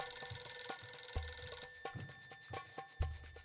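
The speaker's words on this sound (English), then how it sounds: "That's my phone." A phone ringing indoors, a repeated electronic bell-like chime with steady tonal tones and faint clicks, at moderate volume with no voices.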